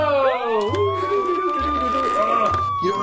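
A toy WWE Wrekkin Slambulance ambulance plays its electronic siren, a loud continuous warbling wail that rises and falls for the whole stretch.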